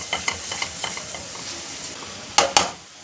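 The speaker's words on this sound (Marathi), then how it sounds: "हे सुद्धा जरा हलवून घेऊयात" Chopped onion with salt sizzles in a pan while a spoon stirs it, soft rhythmic scraping taps over steady frying, ending in a couple of louder knocks against the pan.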